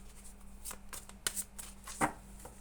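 Quiet, papery tarot card shuffling with soft riffles and a few crisp flicks, close by over a low steady hum.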